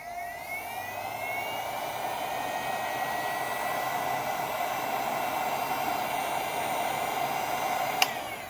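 A hot air blower heating a DIY police strobe light electronics kit circuit board gives a steady, close, loud whoosh with a high whine, running unbroken and ending with a sharp click.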